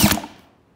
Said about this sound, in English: We got spark.